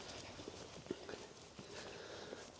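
Racehorses in a jumps-racing yard walking up to a warm-up area, their hooves giving faint, irregular clip-clops over steady outdoor background noise at a distance.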